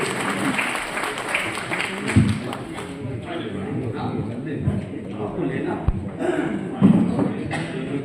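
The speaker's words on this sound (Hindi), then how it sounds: "एक बार आप लोग तालियां बजा दें।" An audience claps through an awards ceremony at a poetry gathering, with steady applause mixed with shuffling, murmuring and scattered louder claps, while voices talk underneath.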